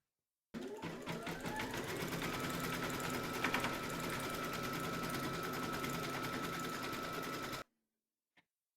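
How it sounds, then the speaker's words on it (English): An embroidery machine stitches through batting taped over a hooped faux-fur dog coaster, a steady close rapid mechanical whirring and needle chatter running for about seven seconds before stopping, with no talking. "Pop your hoop into your machine and stitch round number 2 to secure it."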